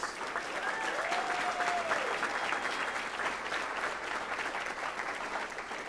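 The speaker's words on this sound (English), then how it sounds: "Let's give them all a round of applause." Dense, sustained applause fills a school board meeting room, honouring a high school choir and its director, with a steady wash of many hands clapping and a faint voice briefly rising above it.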